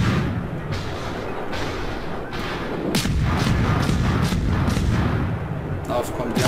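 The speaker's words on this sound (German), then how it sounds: "die schießen sich wieder ein" Enemy ship gunfire in the naval video game World of Warships, a steady run of heavy booms and thuds rolling under a continuous rumble, with several sharper cracks clustered toward the end and a voice talking over it.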